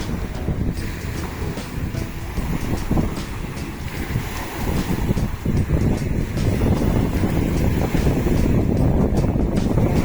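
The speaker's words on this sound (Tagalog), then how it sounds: "Malakas pa rin yung alon, oh" Rough, steady roar of strong ocean waves at a seaside campsite mixed with wind buffeting the microphone, growing a little louder toward the end.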